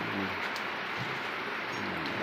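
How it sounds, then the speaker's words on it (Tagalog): Steady rain hisses over a roadside work site, a dense, even wash of drops with no pauses, fairly close and filling the whole stretch. "Hindi yata matigil ang ulan."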